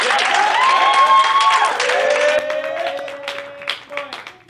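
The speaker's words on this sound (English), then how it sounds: "Please give him a round of applause." Audience applause on a youth talk show as a guest is introduced, clapping under bright tonal music or jingle lines that slide and hold, with the sound thinning toward the end.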